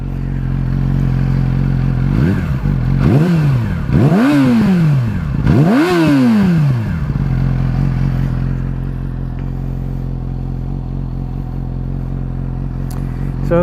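A 2015 Yamaha R6 sport motorcycle with a deep, bassy aftermarket-style exhaust idling close by, blipped through three or four quick rising-and-falling revs before settling back to a steady idle.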